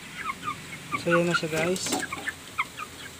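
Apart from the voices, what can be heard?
chickens clucking while being fed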